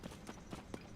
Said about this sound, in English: I'll get that skeleton horse.